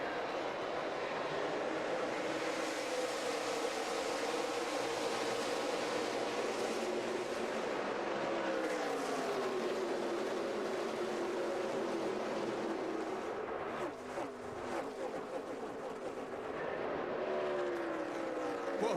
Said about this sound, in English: They come down the front stretch, flag in hand, and this race, the Indy 250 at the Brickyard,